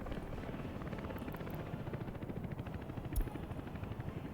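Helicopter rotor and engine noise from the Soviet-era city-building game Workers and Resources: Soviet Republic, a steady dense whir with rapid rotor chop that holds the same loudness throughout, with no voices.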